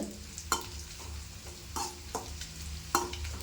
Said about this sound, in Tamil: இது அந்த எண்ணெயிலே கொஞ்சம் இந்த மாதிரி பொறிச்சு எடுத்துக்கிட்டோம்னா